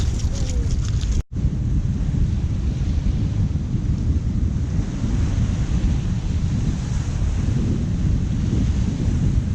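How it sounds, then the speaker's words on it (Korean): Strong, typhoon-force wind blows at sea during a fishing trip near Marsden, New Zealand, a constant loud roar buffeting the microphone with churning surf beneath it throughout. "지금 바람이 어우 뭐 태풍급으로 불고 있습니다"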